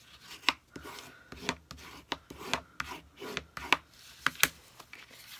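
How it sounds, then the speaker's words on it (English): Paper card being scored and burnished, a quick run of close, crisp scraping and rubbing strokes in an uneven rhythm, with no voices. "I'm going to go ahead and score this and burnish it."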